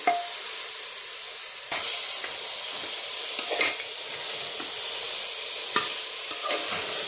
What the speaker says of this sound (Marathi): त्यामध्ये मी हे मॅरिनेट केलेले सोया चंक घालते. त्याला छान हलवून घ्यायचे.